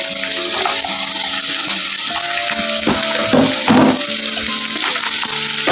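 Onions, peanuts and green chillies sizzle in hot oil in a pan, a loud, dense, steady hiss with bursts of crackle, close up and without talk.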